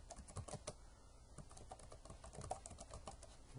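Fingers type a username and password on a computer keyboard, a quick, uneven run of soft close key clicks with small pauses, quiet and alone.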